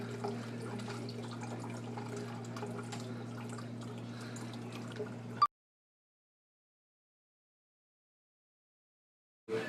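Water runs from a tap into a bottle for about five seconds with a steady, faint pouring hiss, then stops abruptly, leaving silence.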